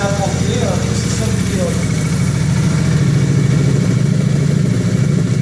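Zento 125 motorcycle engine running steadily close by, a loud, even, low throb that holds at an idle-like pace throughout.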